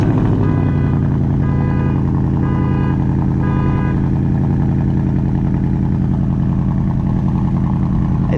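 A 2022 Ford Mustang with factory active exhaust idles steadily and loudly up close, a deep continuous engine rumble with no talking over it.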